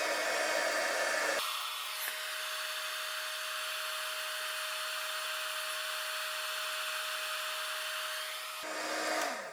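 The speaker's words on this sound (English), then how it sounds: "I'll go ahead and use my heat tool" A heat tool blows hot air to melt embossing powder, a steady loud whirring hiss with a faint whine that switches on, runs evenly for several seconds and then cuts off.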